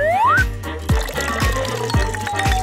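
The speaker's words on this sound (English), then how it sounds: "you can pour it into a bottle." Jelly mixture, cooked and stirred in a frying pan, poured into a bottle: a steady close liquid pour with gurgling and repeated low glugs as the bottle fills.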